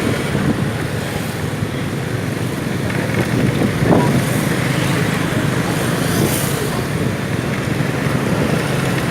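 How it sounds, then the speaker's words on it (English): Road traffic rushes past a motorbike riding across Saigon as a continuous roar of engines and road noise, with wind buffeting throughout and no voices. "you got all kinds of traffic coming up on you"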